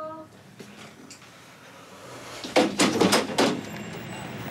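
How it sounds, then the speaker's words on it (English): A door slams in a tense domestic scene, a cluster of sharp, loud bangs and rattles arriving after a quieter stretch. "Oh, that's it! Slam the door."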